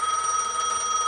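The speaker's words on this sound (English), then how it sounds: "Pick up the phone at the booth in the front of the station." A telephone rings steadily at the station booth in Gas Station Simulator, a bright continuous electronic trill, loud and close with nobody speaking.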